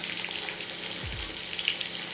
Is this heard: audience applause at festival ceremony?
no